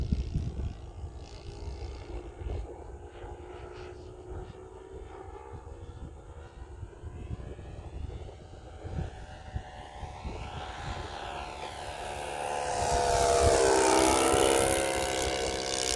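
A Great Planes JU-87 Stuka RC warbird with a 91 four-stroke engine drones steadily throughout, swelling louder toward the end as it passes close by, with no talk over it.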